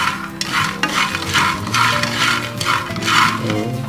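Wood-boring beetle larvae stir-roasting in a pan, with a steady dry sizzle and rhythmic scraping and rattling as they are tossed about, close and loud, with no talking.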